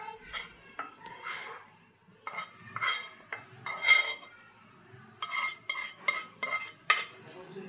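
A spoon scrapes and clinks against a pan and bowl as roasted gram flour is scooped out, a run of irregular close metallic taps and scrapes with short pauses.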